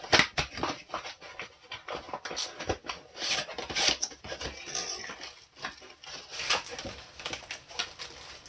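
Toy figure packaging being cut open, scissors or a blade scraping and snipping through plastic and cardboard in irregular close rasping strokes and rustles.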